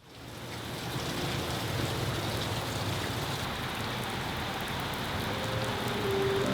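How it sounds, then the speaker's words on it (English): Heavy rain pours down steadily in a dense, continuous hiss that swells in over the first second and stays loud throughout. "It is raining like really hard"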